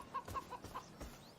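Chickens clucking in a video game, a few short soft clucks in quick succession, faint and close.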